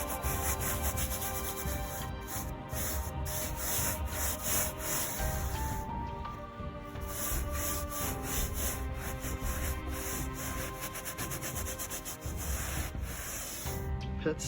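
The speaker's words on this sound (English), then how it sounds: "Just going to work at this a little bit at a time here. You can see here I just sprayed this before and it's already working really well. And then slightly scrubbing it in here." Cleaning spray being scrubbed into a pet stain, a steady, continuous rubbing and brushing that runs unbroken and fairly close throughout, with no voices.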